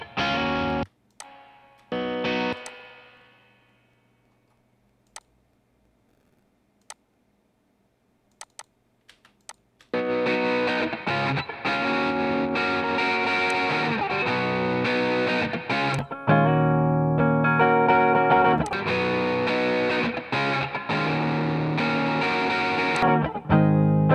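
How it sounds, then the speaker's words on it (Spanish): An electric guitar plays through a UAD Dream '65 Reverb Amp plugin emulation, starting with a strummed chord that rings out and decays into near silence, then returning with sustained, fairly loud riffing and chords for the remaining stretch. "la escucha del Dream 65 Reverb Amp, que creo que es la emulación de un amplificador"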